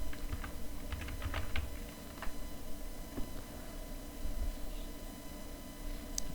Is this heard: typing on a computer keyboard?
yes